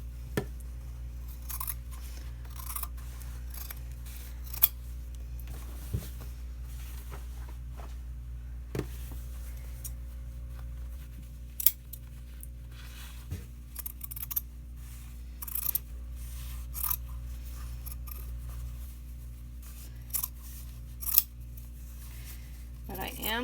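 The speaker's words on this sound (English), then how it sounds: "I'm going to cut the hem so that I can sew that a little more easily" Scissors snip through the fabric of a pant leg hem, giving short faint cuts scattered sparsely over a steady low electrical hum in a quiet room.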